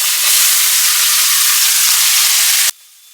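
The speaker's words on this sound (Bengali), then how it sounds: "এবার আমি কুচিয়ে রাখা পেঁয়াজটা অ্যাড করে দেবো।" Chopped onions dropped into hot oil in a pan for biryani, giving a loud, bright sizzle and hiss that holds steady for a few seconds before cutting off abruptly.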